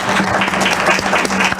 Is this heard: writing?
no